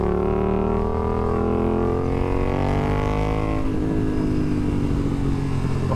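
A 2023 BMW S1000RR superbike on a race track, its engine loud and close, revving hard and climbing through the gears in a sustained roar before easing off.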